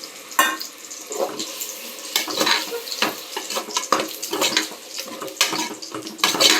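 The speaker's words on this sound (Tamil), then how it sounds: "அடுத்தது நம்ம தக்காளி அரைச்சி வச்சுருக்கதை ஊற்றணும்" Ground tomato paste poured into a hot oiled pan while cooking prawn biryani, giving a close, wet sizzling and spattering with irregular splashy bursts.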